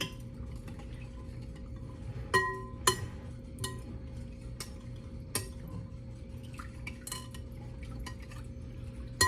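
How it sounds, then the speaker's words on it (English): A utensil stirs pineapple pork taco sauce in a bowl, giving scattered light clinks and taps against the side over a quiet hum, close and faint with no talk. "we're gonna stir this all together"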